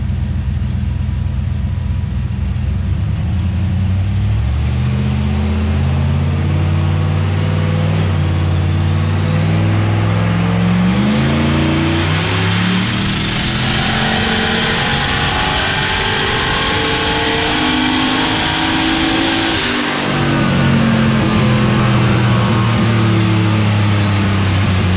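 A Mazda RX-7 on a dyno, its engine revving loudly and up close, climbing through stepped pitch rises before easing back and rising again, with no talking.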